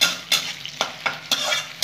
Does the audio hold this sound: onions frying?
yes